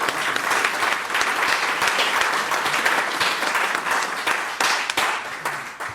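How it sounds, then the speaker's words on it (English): An audience breaks into sustained applause, many hands clapping loudly and close, rising quickly and tapering slightly near the end. "So please join me in applauding them for their help and support for this."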